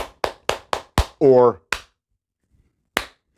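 Hands clapping in a steady run of six sharp claps, then a short spoken word and one more clap after a pause, loud and close.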